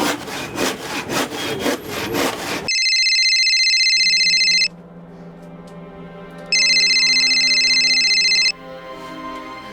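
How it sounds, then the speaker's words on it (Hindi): A telephone rings in a tense crime drama scene, two loud electronic ring bursts separated by a pause, following a harsh rhythmic scraping noise at the start and backed by low dramatic music. "एक और रिंग जाती ना और तू फोन नहीं उठाती"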